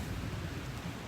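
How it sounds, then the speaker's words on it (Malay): Steady rain falls early in the morning after an overnight storm, a dense, even hiss with a low rumbling wash that stays constant and moderately loud throughout, with no voices. "di sini hujan daripada malam tadi."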